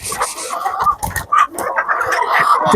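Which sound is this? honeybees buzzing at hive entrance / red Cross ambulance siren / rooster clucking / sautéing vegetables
rooster clucking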